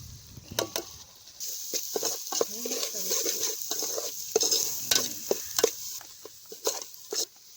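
Ginger garlic paste and masala sautéing in a pan for crab biryani, a steady sizzle broken by frequent sharp scrapes and clinks of a spoon stirring against the metal, close and fairly loud, with no talking.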